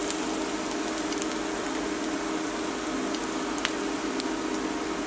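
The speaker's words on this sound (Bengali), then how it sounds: "পেঁয়াজগুলো এবার হালকা করে ভেজে নেব।" Onions frying gently in oil in a pan over medium-low heat, with a steady, close crackling sizzle and a couple of sharper pops.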